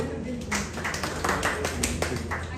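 A seminar audience clapping, a loose burst of hand claps from several people across the room, moderately loud and lasting a couple of seconds, with a voice talking over it.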